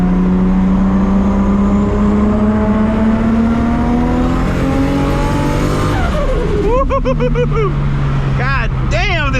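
A 1000+ hp Toyota Supra MK4 pulls hard under loud, close engine roar whose pitch climbs steadily, drops at a gear change, then rises again while a voice cries out over it.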